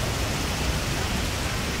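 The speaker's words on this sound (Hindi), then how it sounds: "और तेज बारिश" Heavy rain pours steadily on a late-morning day, a dense, even hiss with no pauses, close and moderately loud, no voices.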